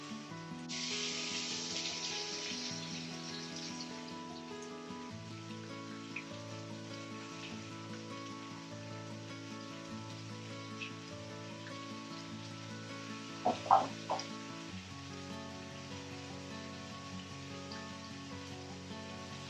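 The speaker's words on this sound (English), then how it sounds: "So I can start hearing all the sizzling." Vegetables for a one-pot pasta sizzle in a pot, a soft continuous frying hiss with a brief utensil clatter partway through.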